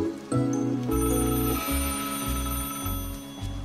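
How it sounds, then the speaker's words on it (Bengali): Telephone ringing as an audio drama sound effect in a Bengali detective story, a repeated electronic ring in regular bursts, close and clear with no voices over it. "টেলিফোন বেজে উঠল।"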